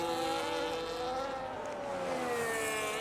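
A Formula 1 car in the F1 26 racing game at the Brazil round runs flat out, its high, sustained engine whine holding steady and loud with slight pitch drifts, with no other sounds around it.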